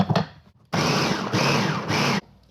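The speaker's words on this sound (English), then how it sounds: "Mash them or put them in your blender." Kitchen blender whirring at close range as it mashes bananas for a hummingbird cake, running in three loud, steady bursts after a brief clatter.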